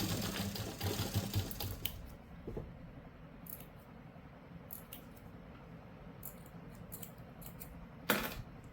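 A sewing machine stitching the seam of a simple suit or kurti gives a short close burst of whirring at the start, then falls quiet, leaving faint handling clicks and taps and one sharp knock near the end.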